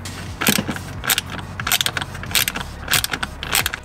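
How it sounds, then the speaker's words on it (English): Small wrench unscrewing a T20 screw under the seat of a 2024 Tesla Model Y/3: a series of sharp metallic clicks and ratcheting ticks in close bursts, with faint rustling between them. "easiest way to remove is to use a small wrench"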